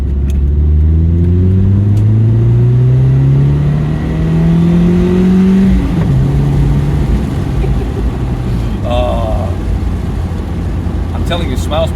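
A third-generation Toyota MR2 with a naturally aspirated four-cylinder engine accelerates hard from inside the cabin, its engine note climbing through the gears in loud, steady rising sweeps with short dips between shifts.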